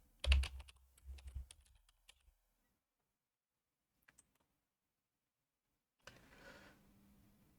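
Close, quiet typing on a computer keyboard in short clustered bursts of key clicks, separated by silent pauses, then a faint rustle near the end.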